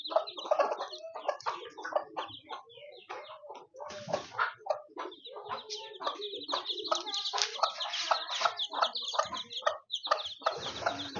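Several chickens, including chicks, cluck and cheep continuously at close range, a busy overlapping chatter of short calls that rises and falls without pause.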